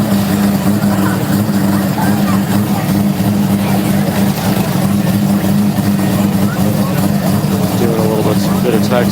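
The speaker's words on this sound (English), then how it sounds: "is that the rotary Supra? Yeah. That's Adam in the Supra." A rotary-engined Toyota Supra drives past, its engine a steady, loud drone that holds throughout under a constant noisy background, with voices faintly present.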